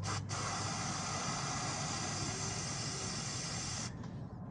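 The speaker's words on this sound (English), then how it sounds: "So I ran out of a carburetor cleaner, so I use a brake cleaner to clean the total body." Brake cleaner sprays onto the throttle body of a 2008 Lexus RX350, a loud, close, continuous aerosol hiss with a brief break near the start and a stop near the end.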